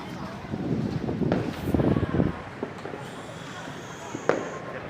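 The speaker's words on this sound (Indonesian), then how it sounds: "Pesta kembang api pun masih tetap meriah" Fireworks crackle and pop at a distance, a dense burst of crackling followed by scattered sharp bangs, with a faint voice in the background, at a fireworks celebration near a mosque in Central Java.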